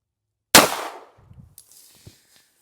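A single sharp gunshot from a Smith & Wesson Bodyguard .380 ACP pistol firing a 90-grain Hornady Critical Defense round, a loud crack that rings and decays, followed by faint rustling and a small thud.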